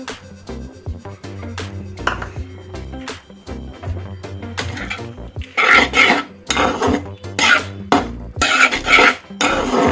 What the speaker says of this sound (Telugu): చల్లారిన తర్వాత లెమన్ జ్యూస్ వేసుకుందాం. వేసుకుని కదుపుకుందాం.